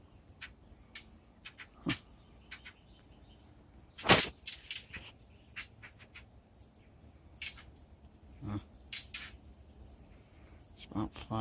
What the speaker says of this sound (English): It's about 5, 6 birds in that tree. All the same species, so it's either mating or they're having a little family squabble.